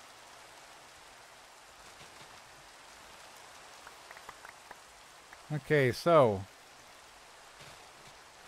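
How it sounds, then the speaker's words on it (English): Steady rain falls in the Minecraft video game, a soft even hiss throughout, with someone speaking briefly over it near the end. "if you can hear me over the sound of the rain."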